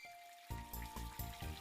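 Cartoon rain sound effect: a steady watery patter with tonal, music-like layers that swell in regular rhythmic pulses, moderately loud and close, with no voices.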